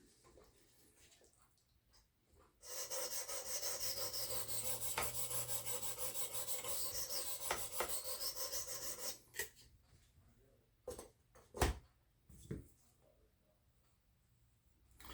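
A tanto knife blade is drawn steadily across a sharpening stone in one loud, continuous raspy stroke lasting several seconds, followed by a few short, sharp scrapes and taps.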